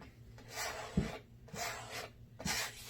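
A tool scrapes paint across a canvas in repeated slow strokes, about four passes of rough, rasping texture at close range with no talking.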